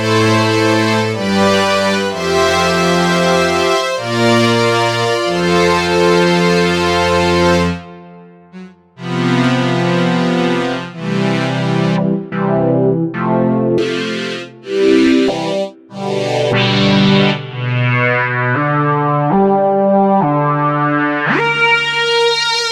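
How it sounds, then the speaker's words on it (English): A Memorymoog string patch played through a Retro Machines MK2 synth, sustained harmonic chords shifting through several changes with brief gaps, loud and up close with no talking. "How about the strings from the MemoryMoog?"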